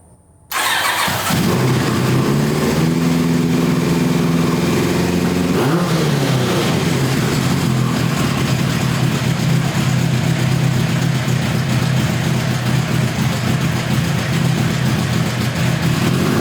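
A 1986 Kawasaki GPZ1000RX motorcycle engine cranks and catches, revs up in a few rising pulls, then settles into a steady, loud, close idle for the remainder.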